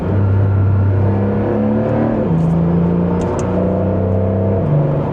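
A Porsche 911 GTS (992.2) accelerating from the cabin with its sport exhaust switched off, a steady engine hum rising in pitch through several gear changes with brief dips between shifts.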